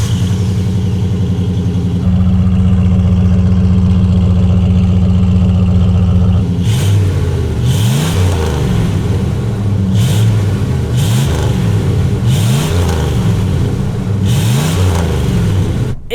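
Ford van with a big block 460 cubic inch, 7.5-litre V8 running, a loud, close engine drone that steps up in pitch and then cycles through repeated revs, with no talk over it.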